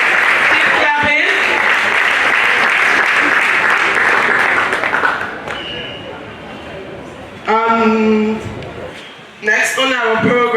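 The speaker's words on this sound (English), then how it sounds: "Keep clapping." An audience at an International Women's Day 2024 event applauds loudly in a dense, sustained wash. It fades after about five seconds as a speaker talks over the thinning claps.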